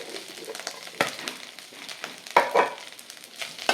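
Spices and grated coconut dry-roasting in a pan for a festival poricha kuzhambu, giving a soft crackle with scraping stirs and a few louder clatters near the middle and end, no voices.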